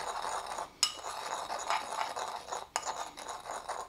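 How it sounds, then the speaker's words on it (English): A spoon stirs a dry spice rub for ribs in a bowl, making faint, close clinks and scrapes with a couple of sharper taps against the bowl's side. "I'm just gonna stir it up."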